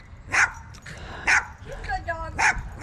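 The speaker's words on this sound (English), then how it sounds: "She's a miniature Australian Shepherd." A miniature Australian Shepherd gives sharp barks spaced about a second apart, close and fairly loud, with a whine between them and people talking nearby.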